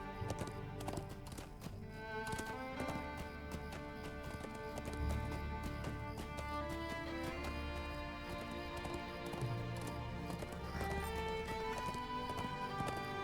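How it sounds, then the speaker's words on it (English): A warhorse gallops in the online game Lord of the Rings Online, rapid rhythmic hoofbeats under a layered orchestral music score, with a whinny among the steady clip-clop. "We'll go ahead and ride the Warhorse for this."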